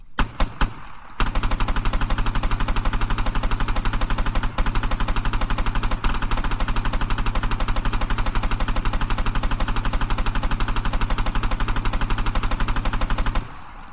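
HK416 rifle firing 5.56mm rounds on full auto in the Arma 3 video game: a few quick opening shots, then one long unbroken burst of rapid, loud, close gunfire lasting over ten seconds before cutting off.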